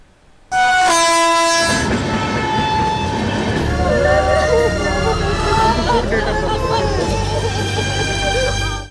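A train rushes past loud and close near Mahabubnagar (Palamuru), opening with long horn blasts that give way to a steady, heavy rumble of passing wagons lasting to the end.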